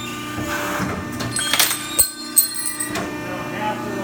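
A machine cuts a piece of field magnet material for a DC electric motor build, a steady mechanical whir broken by clicks, clanks and short grinding bursts, with a person talking at times.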